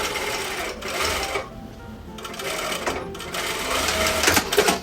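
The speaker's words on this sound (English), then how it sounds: "you are going to sew just from this marking and down the leg." A sewing machine runs in steady bursts while stitching the leg seam of cotton bloomers, loud and close, with a short pause between runs.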